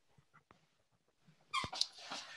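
A dog whimpers and snuffles in the background, first a few faint whines, then a louder burst of high, breathy whining near the end of the short stretch.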